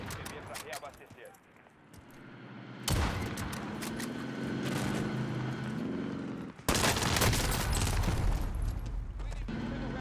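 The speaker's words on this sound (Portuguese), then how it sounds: "O cara me matou com duas rajadas." Gunfire in a video game shootout, with loud rapid bursts cracking in two clusters separated by quieter stretches, and voices talking underneath.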